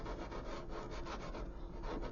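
Close, continuous gritty rubbing as a plastic scale model's superstructure is sanded with the rough side of a sanding stick in quick repeated strokes, fairly quiet and even, no voices.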